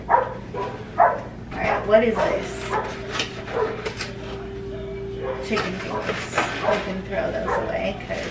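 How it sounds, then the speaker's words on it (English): Neighbourhood dogs bark and yip in short bursts, fairly close but partly under someone talking, with household clatter and a steady hum in the room. "Sorry for the dogs barking."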